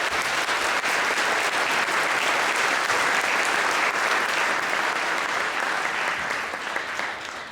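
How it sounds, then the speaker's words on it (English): Sustained applause from a school audience after a fifth grade band performance at a Pancake Day event, with dense steady clapping that tapers slightly near the end. "So if we could give them a round of applause"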